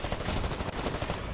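A chain gun fires in Titanfall 2 in a rapid, continuous burst, loud and dense for the entire clip with no pauses or talk.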